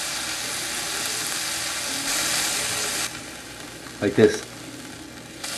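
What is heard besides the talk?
miso-glazed mahi mahi fillets searing in a pan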